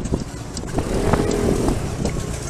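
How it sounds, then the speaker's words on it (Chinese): A white sedan with cancelled plates speeds off from a police stop, a rough, rushing engine and road roar buffeted by wind noise throughout. "反而踩下油门加速逃逸"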